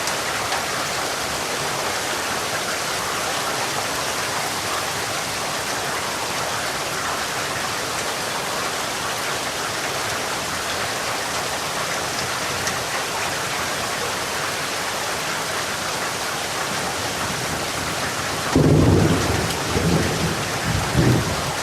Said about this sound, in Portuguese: E nós vamos tratar aqui agora do som da chuva.